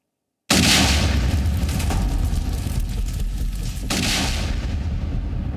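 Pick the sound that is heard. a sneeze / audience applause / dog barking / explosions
explosions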